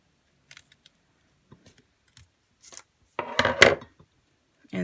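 Scissors cut off extra material during a Dollar Tree craft project, giving a few faint snips followed by a louder, close cutting and rustling burst near the end.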